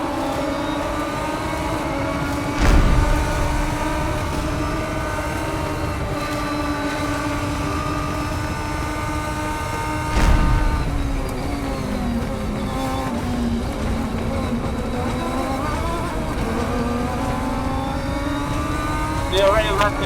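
Radical race cars pulling away at the green flag at Sonoma Raceway, a steady droning chorus of engines with rising and shifting tones and a few louder surges, heard continuously throughout.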